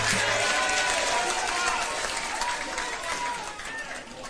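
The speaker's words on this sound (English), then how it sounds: "Another loud of applause for Baba wa kila mtu" Crowd applause and cheering at a Kenyan political rally as Raila Odinga is welcomed on stage, a loud, sustained roar of clapping from a large outdoor audience.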